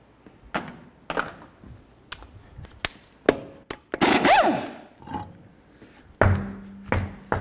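Nineteen-millimetre lug nuts come off the wheel of a 2002-2009 GMC Envoy, with sharp metallic clanks and taps, a whirring burst from an impact tool, and loud scrapes and knocks in an irregular sequence up close.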